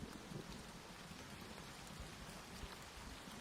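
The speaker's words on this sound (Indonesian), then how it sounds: "Hujan dan petir menyambar" Steady heavy rain pours down in a continuous hiss, with low rumbling thunder underneath, a drama sound effect without any voices.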